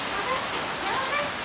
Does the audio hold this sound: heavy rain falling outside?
yes